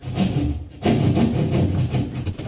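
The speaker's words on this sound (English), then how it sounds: "let's cut the hole, and I got a drywall cutter" A hand drywall saw rasps back and forth through a drywall panel near a stud, cutting a square hole in steady, close strokes with a brief pause partway through.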